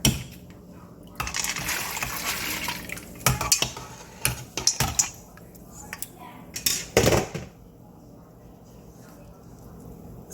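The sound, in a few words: adding filtered beans to hot water in pot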